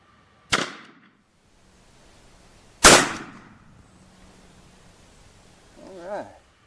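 Two loud, sharp .45 Colt revolver shots fire from a 6-inch barrel a couple of seconds apart, each decaying quickly. A brief voice is heard at the end.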